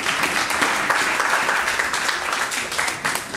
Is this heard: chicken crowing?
no